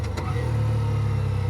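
A Hero Xtreme 125R 125cc motorcycle engine at full throttle holds a loud, steady, low drone close by, with a brief rising burst at the start.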